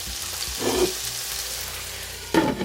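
Food sizzles and fries in a pan seasoned with house seasoning while a utensil stirs it, with a couple of brief scraping stirs over a steady close hiss.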